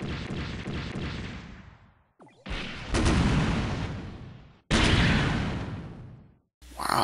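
Long-range cannon firing in SD Gundam Online, several heavy booming shots in a row, each a loud broadband blast that decays over about a second or two, separated by brief gaps.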